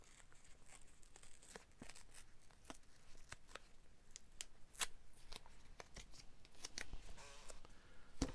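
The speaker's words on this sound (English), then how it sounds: "Snip that bit off the top." Scissors snip and trim a sheet of paper during a crafting project, giving scattered crisp cuts with light paper rustling between them, close and quiet.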